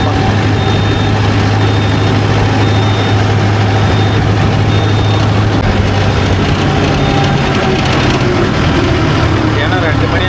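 Mahindra Yuvo Tech Plus 585 4WD shuttle-gear tractor pulling a 9-tine cultivator, its engine holding a loud, steady low drone with a rhythmic beat throughout, close and unbroken.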